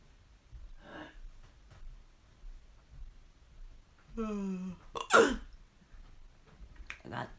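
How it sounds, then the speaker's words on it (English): Sharp hiccups sound close and fairly loud in a quiet room, a few abrupt catches spaced seconds apart, along with a strained voiced noise. "I got the hiccups. My hiccups won't stop."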